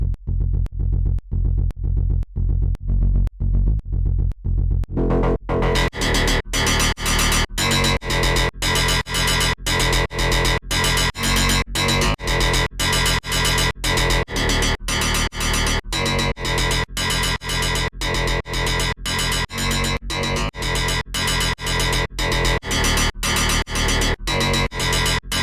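A driven, heavily distorted synth riff from Ableton Operator pounds out in rapid, evenly spaced staccato hits, starting sparse and low before bursting into a loud, bright, saturated pattern that continues alone for the full stretch.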